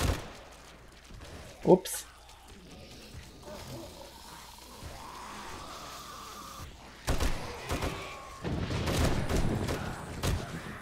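An M60 machine gun fires in the game 7 Days to Die, with short loud bursts of rapid shots late on, after quieter game sounds and a brief spoken exclamation.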